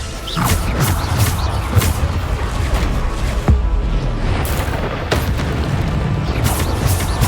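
Bombarda explosion spell in Hogwarts Legacy, a loud blast that sits within a dense, continuous layer of game effects and rumble, with several sharp bursts throughout.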